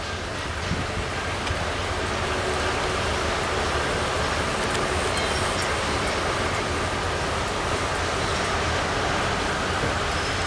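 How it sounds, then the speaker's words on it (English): A small freight train of ethanol tank cars rolls past in Selma or Cary, North Carolina, producing a continuous broadband rumble and rushing noise with steady wheel and car sounds and no talk. "A small ethanol train."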